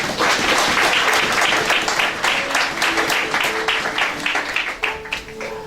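A church congregation breaks into sustained applause and clapping during a French-language sermon, the dense, loud clapping continuing throughout with no pause.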